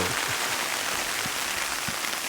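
Steady rain patters on a surface outdoors during a spring bear hunt, a continuous even hiss with a few soft low thumps of drops, no voices.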